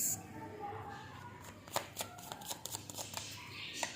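Tarot cards are shuffled up close: crisp riffling and slapping clicks come in quick clusters over a soft background, with faint talking underneath.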